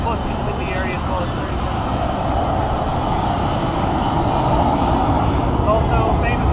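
A-10 attack jet flying at an air show, a continuous loud, broad engine roar that holds steady throughout.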